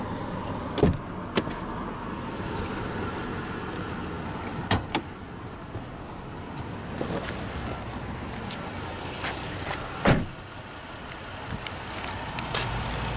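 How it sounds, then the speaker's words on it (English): The driver's automatic power window of a 2022 Toyota Tacoma TRD Off-Road Double Cab rolls down, a quiet motor hum broken by several sharp clicks and knocks, with no one talking. "Now we'll roll down the driver's window"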